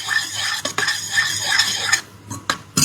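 Ingredients roasting in cow ghee are stirred with a metal spoon, giving repeated scraping and clinking against the pan over a soft steady sizzle, close and fairly loud, with no talking.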